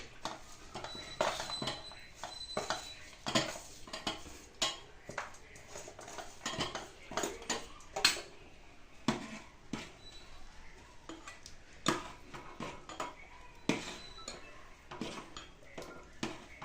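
Metal spoon scraping and clinking against a cooking pot while jaggery is stirred in, a steady run of close, bright clanks and scrapes repeating throughout with no talk.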